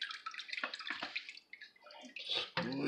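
Liquid cannabis butter is squeezed through a colander, giving wet, close drips and splashy trickles in uneven bursts that ends in a heavier pour.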